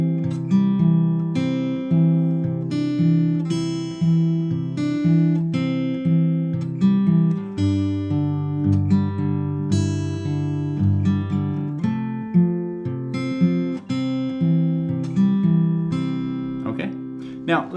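Fingerstyle acoustic guitar in Travis picking style, playing a steady alternating bass under plucked melody notes, close and continuous throughout.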